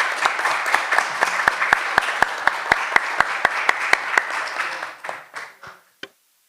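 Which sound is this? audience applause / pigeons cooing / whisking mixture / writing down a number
audience applause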